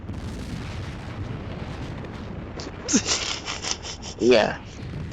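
A flare spell explosion in Final Fantasy XIV bursts twice over a constant game-audio rumble, each blast a sharp rising crackle, while someone speaks briefly in the background.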